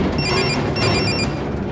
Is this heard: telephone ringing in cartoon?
yes